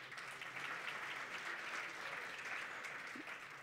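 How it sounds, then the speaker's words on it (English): A conference audience gives a steady round of applause in a large hall. The clapping is even and moderately distant and continues without a break for several seconds. "So I want you to give yourselves another big round of applause."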